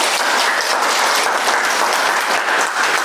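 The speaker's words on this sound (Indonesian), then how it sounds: "Berarti kamu tepuk tangan untuk Ibu dulu." Students in an Indonesian classroom clap for their teacher, a dense, loud, continuous round of applause filling the room from start to finish.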